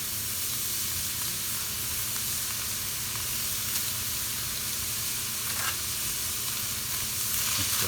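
Tomato paste is stirred in a hot frying pan for stuffed sweet peppers, giving a steady close sizzle with a soft scraping hiss that runs evenly throughout, with no talking.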